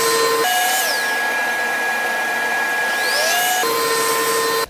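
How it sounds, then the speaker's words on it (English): A power sander runs on a wooden cutting board with 150 grit, a steady loud whine that spins up, holds for a few seconds, then winds down before cutting off. "Let's give it a quick sanding."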